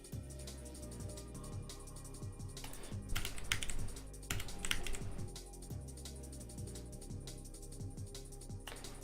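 Rapid, irregular clatter of keys on a finicky computer keyboard during an evening Unity C# coding session, steady and close with a few denser bursts, no voices.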